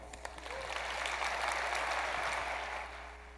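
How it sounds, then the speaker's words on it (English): An audience at a business technology presentation gives a round of applause for a presenter, a moderate, evenly spread clapping from many people that holds steady and fades out near the end, with a low steady hum underneath. "You guys can give an extra round of applause for Ben"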